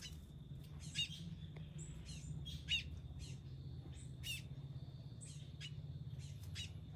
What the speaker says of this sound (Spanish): Esa tremenda guayaba se la está comiendo esa cigua.